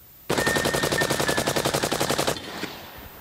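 A suppressed 300 Blackout machine gun rips a single sustained full-auto burst of about twenty rapid, evenly spaced shots at steel popper targets, loud and close, then cuts off into faint outdoor ambience.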